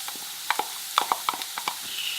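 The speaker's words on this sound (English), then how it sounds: "So, onions first. Sizzle, sizzle." Sparse clicks and light ticks over a soft background hiss as onions begin to sizzle in a pan, with no voices.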